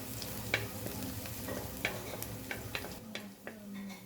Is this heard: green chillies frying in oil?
yes